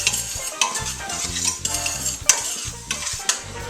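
Spoon stirring sauce in a pot for hog head cheese, with repeated scraping strokes and occasional sharp clinks of utensil against metal in a steady, close rhythm.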